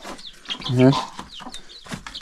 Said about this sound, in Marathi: कोंबडा आणि कोंबडी.